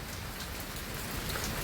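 Heavy stormy rain pours down in a dense, steady roar of drops hitting surfaces, loud and continuous with no voices.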